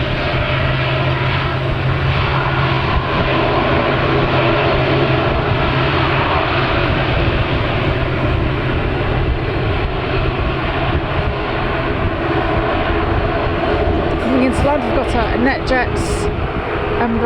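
Airliner engines idle after pushback at Manchester Airport, a loud continuous jet roar and whine heard outdoors without letup, with talking underneath.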